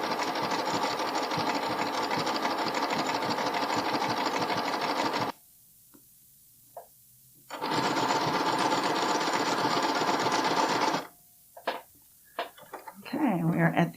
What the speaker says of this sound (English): So now I'm just going to be sewing the same way I did on the other side.